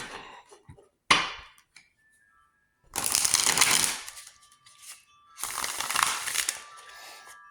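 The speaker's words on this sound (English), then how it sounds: "I'm going to do one more shuffle." Tarot cards are shuffled by hand: a few light taps lead into two dense, crisp riffling bursts separated by a short pause, close and fairly loud, with no talking.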